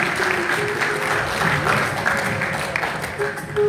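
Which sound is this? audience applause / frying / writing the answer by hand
audience applause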